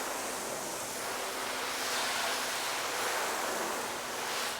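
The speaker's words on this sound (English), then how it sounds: "All right, rinse that off now." Water spraying steadily over a soapy car part during a rinse, a continuous close hiss with no breaks.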